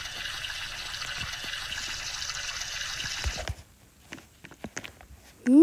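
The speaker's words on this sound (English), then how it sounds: "Let's wash my hands." Running water from a tap for washing hands in a Roblox game: a steady hiss of flowing water that cuts off abruptly partway through, followed by a few faint clicks and a sudden louder tone at the end.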